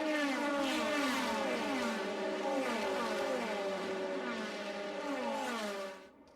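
DTM race cars from the 2001 season scream down the long straightaway into the woods at Hockenheim, with several high-revving engines overlapping in repeated upshifts, loud and sustained before fading away at the end.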